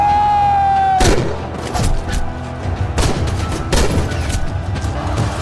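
Loud battle gunfire from an Indian film war scene: repeated heavy shots and booming bursts crash in after a sustained tone fades, firing irregularly across several seconds with rumbling impacts between.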